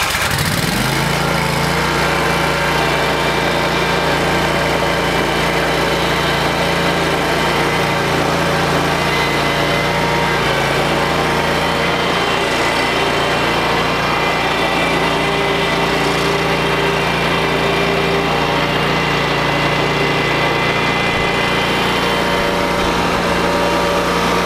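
A Wright commercial lawn mower engine runs loud and steady throughout, a continuous droning roar with a slight shift in tone early on and again midway.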